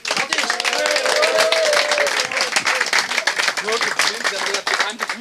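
The winning Heidenau team and supporters applaud and cheer at a club contest, a dense run of close clapping with crowd voices and talk mixed in.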